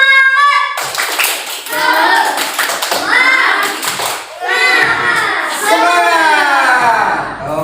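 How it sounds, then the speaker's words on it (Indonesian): Children clap together in a rhythmic spirit-clap pattern in a primary school classroom, sharp hand claps in bursts mixed with young voices chanting along. "Tunjukkan dengan tepuk semangat."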